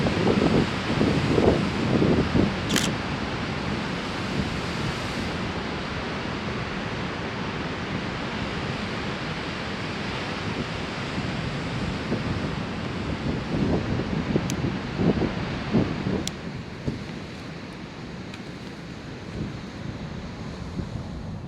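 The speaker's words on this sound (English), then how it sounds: "Just going to wait for a big wave to strike our rocks here" Heavy surf rolls and crashes steadily against coastal rocks on the Isle of Lewis and Harris, with a continuous broadband roar, gusting wind noise on the microphone, and a slight easing of the wash toward the end.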